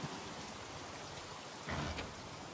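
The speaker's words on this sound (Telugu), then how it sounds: "వర్షం పడుతుంది, షవరింగ్." Steady rain falling outside a hotel room in Goa, a dense even hiss of drops with a brief heavier surge near the end, heard alone.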